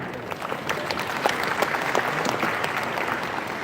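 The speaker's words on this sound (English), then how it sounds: "let's give a big round of applause for all of them" Conference audience gives a big round of applause for media guests, dense close clapping with sharp individual claps standing out, steady and fairly loud throughout.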